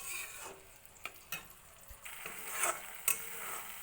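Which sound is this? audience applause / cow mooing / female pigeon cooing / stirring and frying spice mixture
stirring and frying spice mixture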